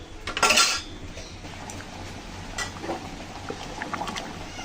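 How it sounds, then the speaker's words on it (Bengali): Spoon scraping and clinking against a pot while mung dal simmers, a sharp cluster of metallic scrapes at the start, then softer intermittent stirring taps over a low bubbling background. "আমি আরও অনেকক্ষণ ধরে জাল করে নেবো ডালে"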